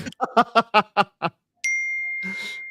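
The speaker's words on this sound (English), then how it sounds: "Oh, you're getting a text message on your screen." A text message alert rings out as a short bright electronic ding with a sustained tone, after a quick burst of laughter-like vocal pulses.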